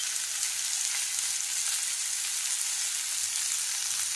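Onion frying in a pan with red chilli powder, coriander powder and cumin powder for a bitter gourd curry, a steady close hiss of sizzling oil with no talk.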